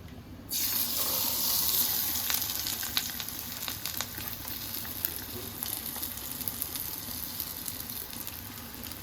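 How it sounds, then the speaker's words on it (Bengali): Marinated fish dropped into very hot white soybean oil, bursting into a loud, dense sizzle that settles into steady crackling frying with scattered sharp pops, close and unvoiced. "তেলটা বেশ গরম হয়ে গেছে। এখন আমরা ম্যারিনেট করা মাছটা দিয়ে দিব।"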